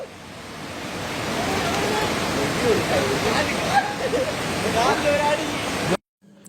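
A steady, loud roar of rushing water from a waterfall at Amboori, Kerala, pours on continuously, with faint voices mixed in, then cuts off abruptly near the end.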